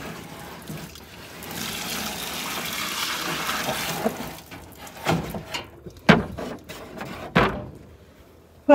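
Collected rainwater pours into a container outdoors with a steady rushing splash, then tapers into irregular trickles, sloshes and a few sharp knocks of the vessel.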